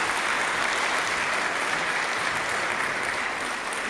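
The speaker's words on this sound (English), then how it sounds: "Can you please give a big round of applause?" Sustained audience applause at an annual financial-industry conference at Droombos, a steady dense wash of clapping lasting the full few seconds with no voices over it.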